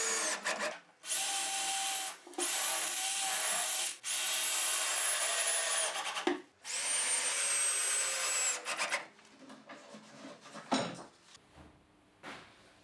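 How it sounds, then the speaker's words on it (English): A power drill whines loudly through holes and drives screws into a wooden workbench frame, in several sustained runs with short pauses, followed by quieter rubbing and handling knocks on the wood. "I mark the position of the screws, drill the holes, and screw them on."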